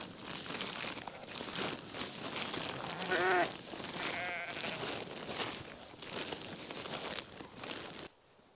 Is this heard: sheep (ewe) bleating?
yes